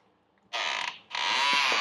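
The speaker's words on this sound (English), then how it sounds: "door definitely needs some oil" A house door in a single-story model home swings on dry hinges that need oil, giving two loud creaking sweeps, the second longer, with no talking over them.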